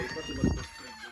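A single soft cluck from a chicken, brief and close, over a quiet background hum.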